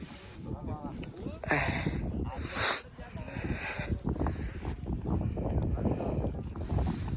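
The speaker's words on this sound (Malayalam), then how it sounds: "നല്ല അടിപൊളി കാറ്റ്, നല്ല വെയിലും ഒരു തണുത്തൊരു കാറ്റില്ലേ?" Steady wind roars and buffets the microphone throughout, with people talking over the gusts.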